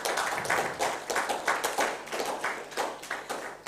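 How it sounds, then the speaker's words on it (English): An audience at a filmmakers' event gives a short round of applause, steady irregular clapping from a modest crowd at moderate distance, fairly faint and without speech over it. "A round of applause, please."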